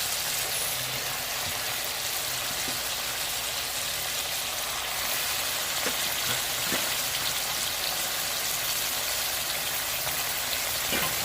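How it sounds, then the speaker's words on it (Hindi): Chicken pieces frying in half a cup of hot oil in a pan for chicken karahi, giving a steady, dense crackling sizzle with scattered pops throughout and no talking. "ये हमने आधी प्याली ऑयल शामिल कर दिया है इसमें। अब हम जो है इसमें ये चिकन डाल देंगे।"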